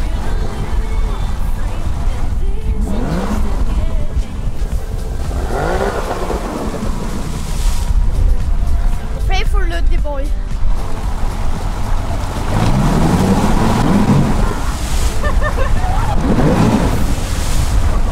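A motorboat driving round and round in circles to make waves, its engine droning steadily with water splashing and churning, loud and close, while people talk over it.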